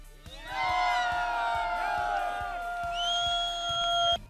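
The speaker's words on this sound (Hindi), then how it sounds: "जोरदार तालियां।" Loud crowd cheering and whooping from a studio audience on a Hindi show, with voices rising together in a sustained swell and rhythmic claps pulsing underneath for about four seconds.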